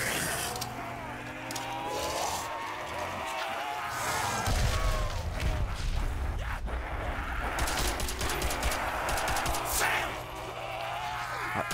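Gunfire in the Nazi Zombies video game, Stadium map, with dense rattling shots, crashes and mechanical clatter over a low rumbling game soundscape that stays loud throughout.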